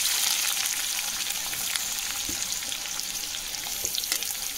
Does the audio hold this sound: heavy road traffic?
no